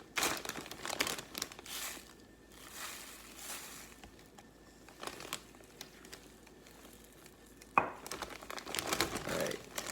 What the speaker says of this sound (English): we're gonna add half a cup of salt to the gallon bag